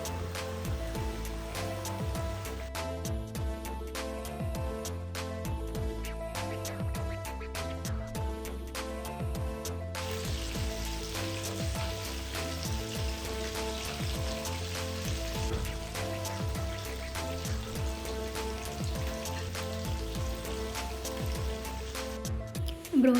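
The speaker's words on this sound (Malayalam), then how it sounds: "ചൂടായ എണ്ണയിലേക്ക് ഓരോ പീസ് ചിക്കനും ആഡ് ചെയ്ത് ഒരു മീഡിയം ഫ്ലെയിമിലിട്ട് കുക്ക് ചെയ്തെടുക്കുക" Chicken pieces for Kerala-style broast deep-fry in hot oil over a medium flame, giving a steady, rain-like sizzle and crackle throughout, with music playing underneath.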